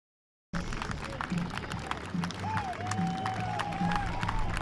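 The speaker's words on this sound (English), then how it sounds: "Sergeant First Class David Mathis was met with a round of applause early Friday morning." A crowd welcoming home a returning soldier, Sergeant First Class David Mathis, early in the morning with steady applause and scattered cheers, heard from a middle distance at moderate volume.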